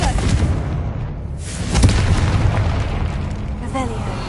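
A Confringo blasting spell going off in Hogwarts Legacy: one loud, full-bodied boom swells midway over steady game ambience and background voices, then fades into a low rumble.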